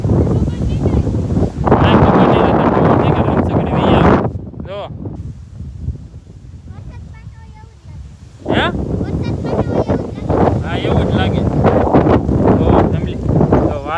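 Strong storm wind gusting hard against the microphone in loud roaring bursts, easing briefly in the middle before rushing back, with a person talking at times.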